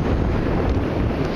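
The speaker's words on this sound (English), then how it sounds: "Where this wind came from." Strong wind roars and buffets the microphone outdoors by a rough bay with waves, a loud, steady, broadband rush with no voices.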